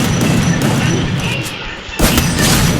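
Rapid gunfire from a shooting video game's shotgun-versus-M10 weapon challenge, a dense continuous burst of loud shots with a sharp renewed volley near the end.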